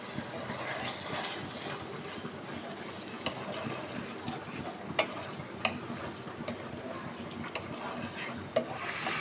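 Boal fish roe fries in oil in a pan while being stirred, giving a steady quiet sizzle broken by a few sharp scraping clicks of the utensil.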